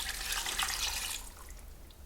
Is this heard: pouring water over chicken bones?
yes